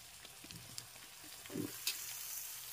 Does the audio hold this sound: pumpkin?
yes